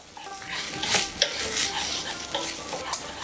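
Poppy seed paste with torn green chillies is stir-fried in a pan, giving close scraping stirs over a soft, steady sizzle, with a few sharper clinks of the utensil.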